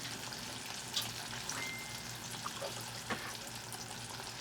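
Oil sizzles and crackles steadily as chicken fries, with occasional small pops and clinks, close up and without voices.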